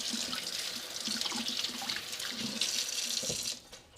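Water runs steadily from a kitchen tap for most of the few seconds, a bright continuous splash that cuts off near the end.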